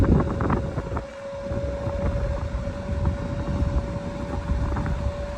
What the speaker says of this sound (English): now it's kind of just sounds like a regular fan you'd have in your house